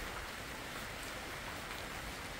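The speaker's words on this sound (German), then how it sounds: "Und hier regnet es schön runter." Steady rain pours down onto a 3x9 pavilion canopy, a continuous even hiss of drops on the fabric roof with no voices, holding constant throughout.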